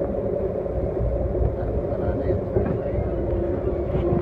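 Low, continuous rumble and clatter inside a moving Amtrak Downeaster passenger train carriage, steady throughout with faint rattling on top.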